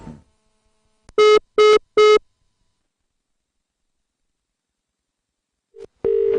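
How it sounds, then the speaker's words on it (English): Telephone ringback tone on a call, three short evenly spaced beeps followed by a pause and the start of another steady tone, clean and loud with nothing else behind it. "Olumide, why are you answering the phone? Check again and see who you called"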